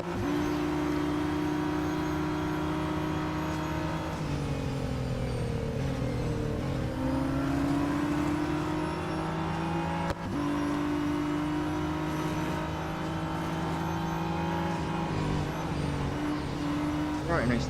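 Racing cars in Real Racing 3 roar and rev continuously at close range, engine pitch rising and falling through gear shifts as the player chases rivals on track, with someone talking over the engines.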